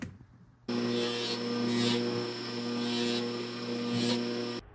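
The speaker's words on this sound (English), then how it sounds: "We're going to polish the ring on the wheel." Onyx ring pressed against a spinning polishing wheel, a steady motor whine and hum that starts abruptly, swells and dips a few times as the ring is worked, then cuts off.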